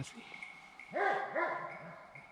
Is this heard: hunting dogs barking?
yes